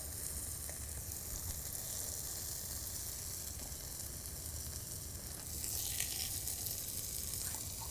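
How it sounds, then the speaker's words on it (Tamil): Grated coconut sautéing in a hot kadai, a steady moderate sizzle with faint stirring scrapes that swells slightly toward the end. "இதிலே தேங்காய் போட்டு அந்த கடாயில் இருக்கக்கூடிய சூட்லேயே நம்ம நல்லா வதக்கிக்கலாம்"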